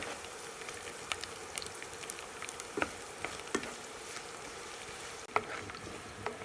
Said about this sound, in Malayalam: വെളുത്തുള്ളി ഇട്ടതിന് ശേഷം നമ്മുടെ പച്ചമുളക് 3 എണ്ണം കട്ട് ചെയ്തത് ഇട്ട് കൊടുക്കുക